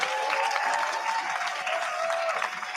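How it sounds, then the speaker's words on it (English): An audience at a live university quiz final applauds the contestants, sustained many-handed clapping at steady volume with a faint tone and murmur underneath. "So another round of applause,"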